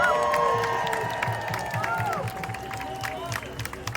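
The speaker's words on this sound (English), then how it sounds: "Give yourselves a round of applause." A protest crowd gathered before a city official applauds itself, mixing clapping, cheers and whoops into a dense wash, with a few shrill whistle-like tones gliding above it.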